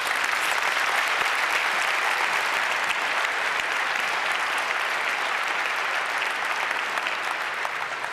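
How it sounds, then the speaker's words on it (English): A conference audience applauds after a talk at a hackers' congress, dense sustained clapping from a large crowd that fills the room evenly throughout, with no voices over it. "Please give her a bit of applause."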